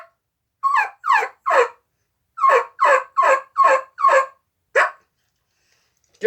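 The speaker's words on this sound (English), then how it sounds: "Carry the Woodhaven Ninja Venom." Woodhaven Ninja Venom turkey mouth call producing clear, close yelps: a run of three notes, a pause, then five evenly spaced yelps and one more, loud and isolated.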